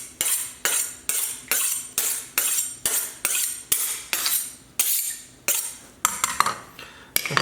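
A kitchen knife drawn repeatedly against a sharpener, making a steady series of about sixteen bright metallic scraping strokes in a quick, even rhythm, loud and close with no voices.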